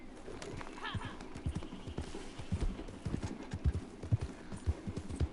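Rapid rhythmic thudding of horse hooves galloping in the video game Red Dead, steady and close, with a faint bird coo in the background.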